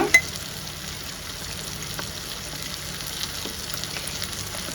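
Schezwan fried rice with chicken pickle gravy being stirred in a pan, a steady close sizzle and frying hiss with faint scraping and one sharp clink near the start, no voices.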